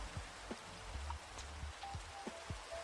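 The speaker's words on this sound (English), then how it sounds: "It's raining." Rain falls in Java Minecraft, a steady hiss with distinct raindrop taps and a few soft tones from the game, faint and continuous with no talk.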